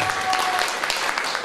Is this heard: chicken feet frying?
no